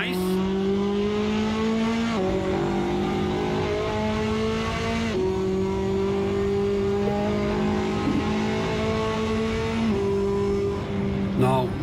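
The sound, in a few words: Ferrari car engine revving in video game Assetto Corsa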